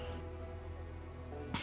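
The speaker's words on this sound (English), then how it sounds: "It's kind of rainy out here." Steady rain falls outdoors in a video game, a soft continuous hiss that holds for under two seconds before a brief brighter burst near the end.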